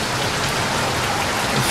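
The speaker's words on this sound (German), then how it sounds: "Mir kommt vor, es wird ganz kleinen Hagel an den Fenstern." Small hail and rain patter against windows during a thunderstorm over Austria, a dense, steady, close rattling that fills the clip with no voices.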